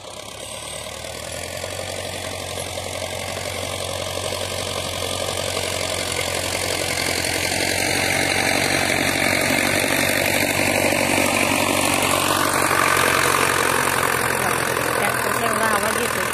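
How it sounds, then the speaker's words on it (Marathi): Tractor engine running in a farm field, a steady mid-pitched drone that grows slightly louder over time and holds continuously, with a shifting whine and distant bird-like calls over it. "ट्रॅक्टरचा एवढा आवाज येतो तरी ती मागं जात नाही त्या ट्रॅक्टरच्या शेजारीच।"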